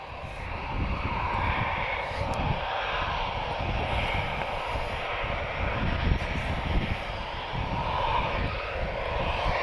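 A Portuguese Air Force military aircraft at Lisbon Airport gives a steady, fairly loud engine roar that swells slightly and stays constant, with no one talking.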